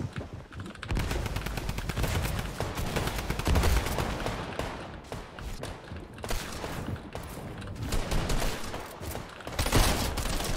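Rapid automatic gunfire from a new weapon in a video game, sustained dense bursts for about ten seconds with short gaps, loud and close, no talking.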